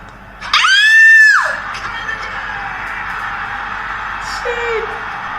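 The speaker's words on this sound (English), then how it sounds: "The crowd singing, howling," A home football crowd roaring, howling and screaming as England beat Denmark in extra time of the Euro 2020 semi-final, with a loud rising shriek near the start over a steady stadium roar that carries to the end.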